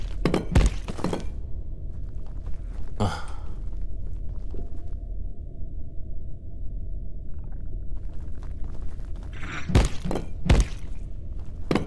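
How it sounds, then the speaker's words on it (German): In Abiotic Factor, thrown discs hit the armored shells of creatures and bounce off. Sharp clattering thunks come in clusters at the start and near the end, with a steady low rumble between them and no speech. "Scheiben prallen einfach ab in ihrem Panzer."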